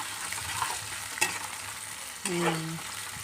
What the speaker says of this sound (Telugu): ఆనియన్ అయితే వేసుకున్నాను. ఇవి కొంచెం ఇట్లా ఫ్రై చేసుకొని